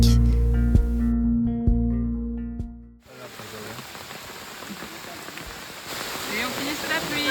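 Heavy rain in Guatemala, starting after a brief tonal passage and then filling the scene as a steady broadband wash of falling water, loud and continuous for the rest of the clip.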